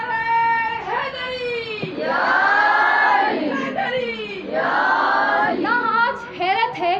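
A crowd at a Muharram majlis chants religious slogans in loud, sustained, tonal call-and-response bursts, with a lead voice rising between the swells of massed voices.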